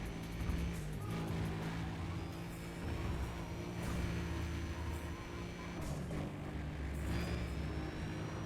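Mazda RX-7 intro sequence in a racing video game, a steady car engine drone with rising whines and occasional swells, fairly quiet throughout.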